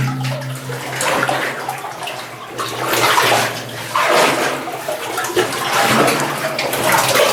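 Water rushes and drains past someone wading knee-deep through a flooded underground mine, a loud, close, continuous churning and splashing that swells and surges throughout, with no talking.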